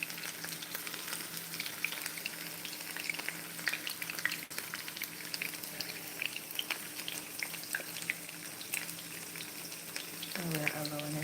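Chicken pieces fry in coconut oil in a pot, a steady, loud sizzle and crackle that holds evenly throughout, with a faint clink near the end.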